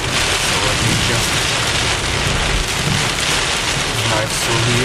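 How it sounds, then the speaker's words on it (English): Heavy rain pounds loudly and continuously during a Florida thunderstorm in 2006, heard from inside a moving vehicle, with a low rumble beneath the dense wash of drops. "you can see the heavy rain"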